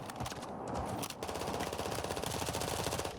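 Sustained automatic gunfire in Warzone, a fast steady rattle of rounds close and loud with a brief gap near the start, no talking.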